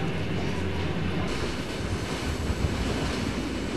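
A train travels on a mountain line climbing up from a fjord, producing a loud, steady rumble and rolling wheel noise close by without a break.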